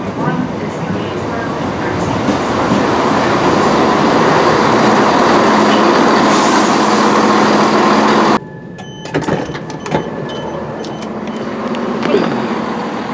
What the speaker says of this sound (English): We're actually travelling on diesel multiple units, because my next train is the 1213 ScotRail service,